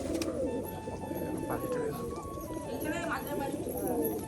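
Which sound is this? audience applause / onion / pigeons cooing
pigeons cooing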